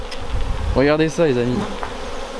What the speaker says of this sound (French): Regardez, c'est noir d'abeilles. Oh, il y a une qui me bourdonne dans l'oreille.